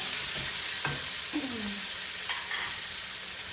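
Chopped onion and carrot sauté in a pan for a Mexican vegetarian soup, giving a soft, steady sizzle with a few stirring scrapes and clinks, fairly quiet and close, with no talking.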